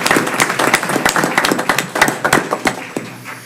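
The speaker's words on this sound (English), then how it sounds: "So we could give them some applause in their absence." Scattered clapping from a small school board meeting audience, a few hands striking in an uneven, loose rhythm at close range, fairly loud and with no voices over it.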